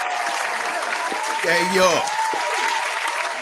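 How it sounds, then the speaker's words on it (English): Audience applause for a guest as he is welcomed on a talk show, a broad steady clapping wash heard under a voice calling out a greeting. "y'all give him a nice digital round of applause"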